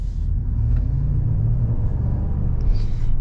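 Low, steady V8 rumble from a 2022 Jeep Wagoneer's 5.7-liter engine while driving, a continuous cabin-heard drone with road noise and no speech.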